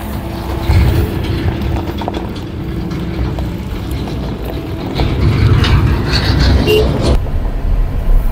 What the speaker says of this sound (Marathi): जेव्हा खड्ड्यांमधनं गाडी जाते ना